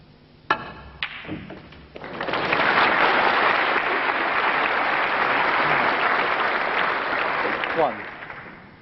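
Clacking snooker balls at a 1995 UK Championship final give way to a swelling round of audience applause that holds steady for several seconds, then fades.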